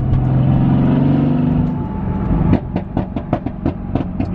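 Mercedes-AMG GT S exhaust giving a series of sharp pops and crackles under light throttle, about eight distinct bursts in quick irregular succession after a steady engine drone fades, close and loud.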